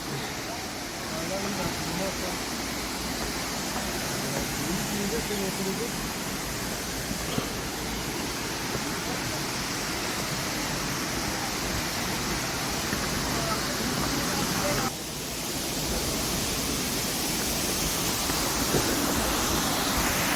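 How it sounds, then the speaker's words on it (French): The waterfall at Bassin des Aigrettes on Réunion gives a steady, broad roar of falling water, loud and unbroken for the whole stretch, with a brief rustle or bump midway. "c'est quand même très joli avec la cascade"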